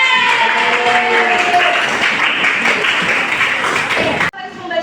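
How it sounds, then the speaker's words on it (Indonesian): Students applauding in an Indonesian classroom during a history lesson: a dense, sustained wash of many hands clapping for about four seconds, with a voice talking over it, then it cuts off abruptly. "tepuk tangan semuanya"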